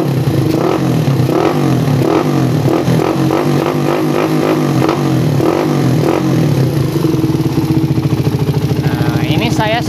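A motorcycle engine fitted with a PWK CPO series carburetor idles and revs in repeated blips of the throttle, close and loud, with someone talking over it.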